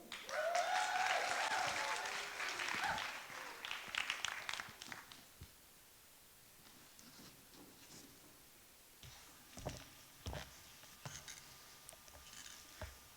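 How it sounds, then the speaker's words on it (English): Applause from a poetry slam audience rises in the first few seconds, then thins out to scattered claps, followed by quiet and a few faint ticks and thumps. "Can we please give a big round of applause for Strand Henderson with his poem, School."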